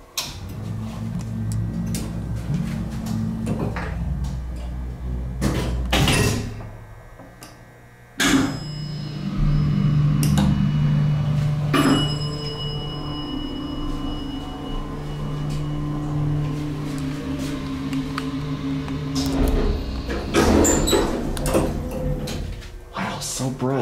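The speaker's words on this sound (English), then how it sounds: "How slow that door is." An old Montgomery hydraulic elevator's cab door at Century Centre in Bryan, Texas, slides open slowly with a long mechanical rumble, sharp clunks at the start and end, and a steady electronic tone partway through.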